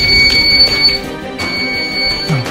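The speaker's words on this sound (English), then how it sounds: "Yo, I think we just set off this alarm." An alarm hidden inside a wall of a car dealership beeps in steady, high-pitched pulses, loud and close, repeating without pause.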